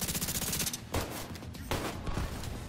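Video game gunfire rattles out in rapid, continuous bursts, loud and dense throughout, with heavy automatic fire swelling and easing slightly but never stopping.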